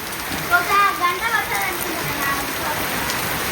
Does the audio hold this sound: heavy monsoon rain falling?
yes